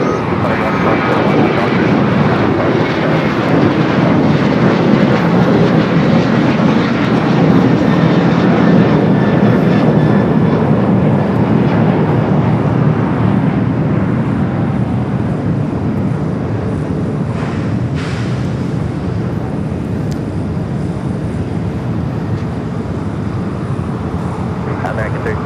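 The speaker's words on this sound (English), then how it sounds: "737-900ER. Now rolling down, will be followed by that 777 freighter." A Boeing 737-900ER rolls down runway 25 right at Los Angeles airport for takeoff, a loud, sustained jet engine roar that stays near and steady throughout while air traffic control radio chatter plays over it.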